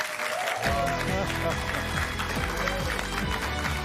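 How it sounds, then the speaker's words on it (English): Studio audience applause from a live television show, a broad, continuous clatter of many hands beneath music with a thumping beat and a voice speaking over it. "delayed applause"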